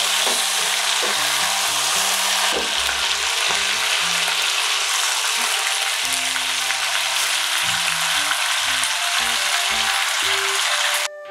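Chicken sizzling loudly as it grills on a stovetop over medium heat, a dense continuous hiss and crackle close up, with low background tones shifting underneath.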